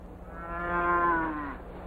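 A cow on a ranch in a 1975 western film gives one long, loud, clear moo that swells and then slides down in pitch, heard alone over a low background.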